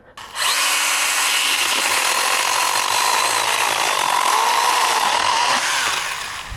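A STIHL GTA 26 cordless pruner saw runs steadily through a fallen mid-sized tree whose wood seems rotten or termite-damaged, a loud continuous motor whine with a buzzing chain, close up and uninterrupted, with no talking.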